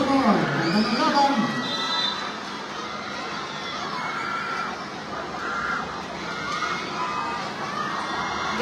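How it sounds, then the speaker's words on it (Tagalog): Spectators at an off-campus team's basketball game against a Monkayo all-star side roar and shout together, a steady loud crowd din with cheering peaks, voices overlapping throughout. "Grabe hiyawan ng mga tao nasa likod namin"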